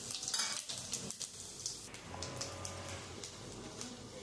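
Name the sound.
cumin and dried chilli tempering sizzling in hot oil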